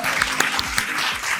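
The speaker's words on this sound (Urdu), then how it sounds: "ویلکم کرتے ہیں آپ کی بھرپور تالیوں میں" An audience at a book launch ceremony applauding to welcome a speaker, a brisk patter of many hands clapping close by, steady over the short span.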